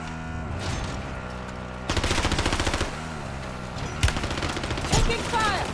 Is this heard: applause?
no